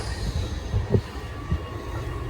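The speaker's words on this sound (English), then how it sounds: "Heading down even deeper into the depths of the subway metro system here in Rome." A train rumbles through a deep underground metro station in Rome, a steady low roar with a few louder clunks and a faint thin whine, no voices over it.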